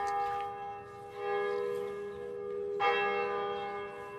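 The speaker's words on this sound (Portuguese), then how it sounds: "Está ouvindo sinos?" Church bells ring with sustained, layered tones and a fresh strike near the end, steady and fairly loud with no talk.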